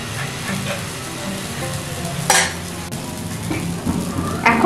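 Flour and vegetable batter being spread in a hot frying pan, with a steady close sizzle, scraping strokes of a utensil and a couple of sharp clinks against the pan, and no talk.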